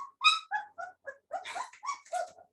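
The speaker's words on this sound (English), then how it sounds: "The puppies are so loud." Puppies yelp and whimper in a quick string of high, short cries, close by with brief pauses between them.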